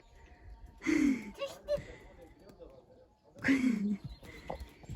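Pigeons coo and flutter close by while people talk over them in short bursts.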